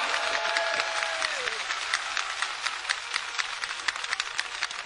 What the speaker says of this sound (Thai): ปรบมือดัง